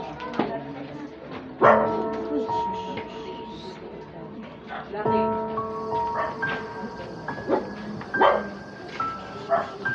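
Several dogs bark in sharp scattered bursts, some near and some farther off, over a background of voices and tonal music.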